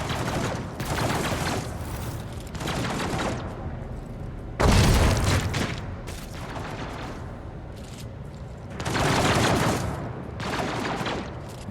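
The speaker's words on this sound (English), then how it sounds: "More shots happening." Gunfire and booming blasts in the video game Warhammer 40,000: Rogue Trader, dense rolling volleys of shots with a heavy impact burst midway, sustained and loud throughout.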